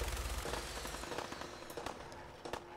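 Gunfire in Fallout 4: a fairly faint, rapid rattle of shots and sharp cracks, with a few louder single reports near the end, heard against a steady background hum.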